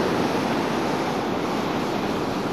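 Steady ocean surf and wind roar along the Indian Ocean coast just south of Kalbarri, a loud, continuous wash with no voices.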